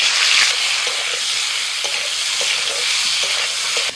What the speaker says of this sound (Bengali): তো এবার এঁচোড়টা ভেজে নিচ্ছি।